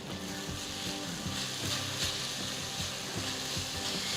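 Onions fry with green chillies, curry leaves and ginger garlic paste in a pan, giving a constant soft sizzle with a rhythmic clatter of stirring throughout, no voices.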